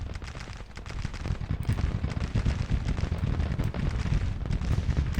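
Steady crackle of massed musket volleys from an American Civil War battle in the video game Grand Tactician: The Civil War, many shots overlapping into a continuous rolling roar, distant and sustained.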